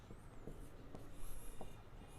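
Chemistry structures for a benzene reaction being drawn on a board, a quiet, continuous rubbing scratch of the writing stroke with a few brief taps, close and steady for a couple of seconds.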